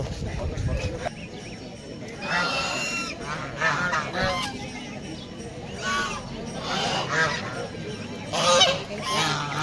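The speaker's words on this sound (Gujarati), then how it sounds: "જો કેટલા બધા બતક છે" Waterfowl at Dudhani Lake in Silvassa, seen from a boat by the shore, give repeated honking calls that come in short bursts throughout, mixed with people talking nearby.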